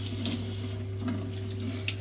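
Liquid pours steadily in a continuous splashing stream, close and fairly loud over a constant low hum, with no talking.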